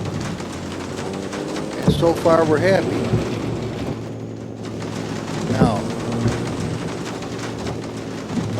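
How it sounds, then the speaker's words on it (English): Steady rain patters on car windows in a video game using the SOL weather add-on, a continuous hiss with faint drumming that stays constant beneath someone talking throughout. "we've got rain on the windows. We got the sound of rain."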